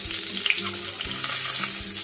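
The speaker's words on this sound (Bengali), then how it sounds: "কাতলা মাছগুলো ভাজা হয়ে গেছে" Pieces of catla fish fry in hot oil in a pan, giving a steady, close, crackling sizzle throughout, with no voices.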